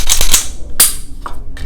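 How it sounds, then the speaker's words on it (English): IWI Masada pistol handled at close range, a few sharp metallic clicks and clacks as the magazine drops and the slide is worked, short separate snaps with quiet gaps between them. "Let me drop the mag and just let you see"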